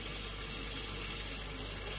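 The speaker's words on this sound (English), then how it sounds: "So we're gonna rinse that off. Put some cold water on it." Cold tap water runs steadily over saltfish in a pan, a constant hissing rush at close range with no pauses or voices.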